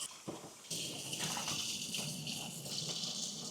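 Water gushes into a water bottle as it is rinsed out, beginning after a short quiet start and continuing as a steady, close splashing rush with no voices.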